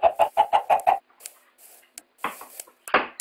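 Chickens clucking in a video game, a quick run of six even, rhythmic clucks followed by scattered softer clucks and squawks, close and alone.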